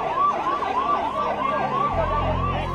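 An ambulance siren wails in a repeating rising-and-falling pattern, loud and close, with traffic rumble underneath, in Delhi.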